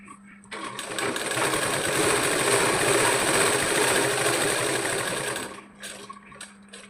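A sewing machine stitching a child's petticoat top runs in one steady whirring burst of about five seconds, close and clear. It stops, and a few soft handling clicks follow.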